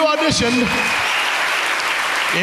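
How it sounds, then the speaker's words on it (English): A cruise-ship audience at a Newlywed Game show applauds and cheers for the people who auditioned, a steady, dense wash of clapping with a whoop near the start, and a host's voice briefly heard over it. "all that auditioned deserve a huge round of applause. Make some noise for them."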